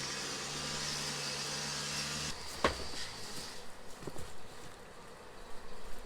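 Honey bees swarm around a hive while the honey is collected, their dense steady buzz filling the first couple of seconds before thinning into scattered nearby drones and soft handling noises.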